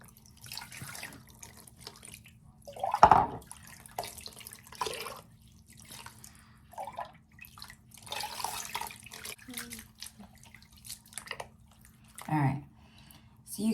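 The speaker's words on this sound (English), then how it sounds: "Now again, I'm gonna go ahead and wash it through his hair." Running tap water pours and splashes in bursts through a toddler's locs during an apple cider vinegar rinse, with intermittent splashes and drips at close range and talk mixed in.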